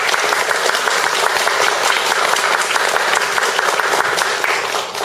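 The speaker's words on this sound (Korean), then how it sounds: "기꺼이 이렇게 라프엠에 나와주신 선생님께 감사의 박수 한번 주시기" Loud sustained applause from a studio audience thanking a guest, the president of the Korean Writers' Association, in a continuous dense patter that holds steady before easing slightly at the end.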